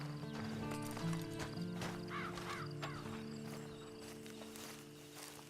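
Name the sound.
horse walking, hooves clip-clopping, from Red Dead Online video game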